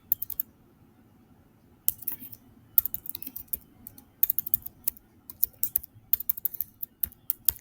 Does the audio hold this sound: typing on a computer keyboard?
yes